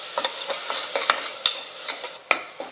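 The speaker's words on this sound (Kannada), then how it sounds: "ಇದನ್ನು ಸ್ವಲ್ಪ ಟೊಮೆಟೊನ ಮೆತ್ತಗಾಗಿ ಫ್ರೈ ಮಾಡ್ಕೋಬೇಕಾಗ್ತದೆ." Tomatoes and onions with salt fry in a pan as a utensil scrapes and stirs in quick, close, regular strokes over a soft sizzle.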